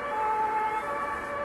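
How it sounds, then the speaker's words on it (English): Emergency sirens wail steadily in the background of a small German town, Morbach, a sustained tonal alarm with no talking over it. "in the background, you hear sirens"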